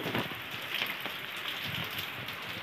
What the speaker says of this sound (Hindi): अभी बारिश गिर रहा है बहुत जोर से